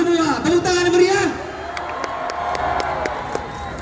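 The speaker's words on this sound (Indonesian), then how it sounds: "Tepuk tangan meriah!" Crowd applause and cheering celebrating Indonesia's U-22 national football team at the 2023 SEA Games, with a loud voice shouting over the start and scattered sharp claps continuing under a sustained crowd roar.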